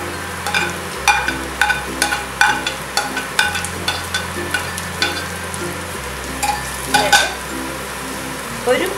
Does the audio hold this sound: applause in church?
no